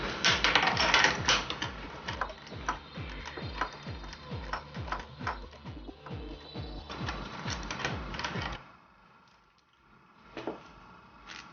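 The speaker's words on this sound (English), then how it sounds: "remove the spark plugs, and for that you're going to have to use 16mm spark plug key for RF900." A 16mm spark plug key loosens the spark plugs on a Suzuki RF900 motorcycle, making rapid, rhythmic ratcheting clicks close by for several seconds before stopping, followed by a couple of faint handling sounds.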